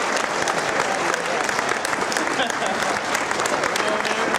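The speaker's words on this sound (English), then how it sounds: "Let's give them a round" Loud, steady applause from a convention audience at the ECCC 2013 costume contest, a dense crowd clapping continuously throughout.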